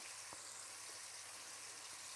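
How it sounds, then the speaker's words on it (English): Faint, steady sizzling of chicken frying in hot oil, a soft continuous hiss with a couple of small pops. "Hear that sizzle? That's what we're looking for."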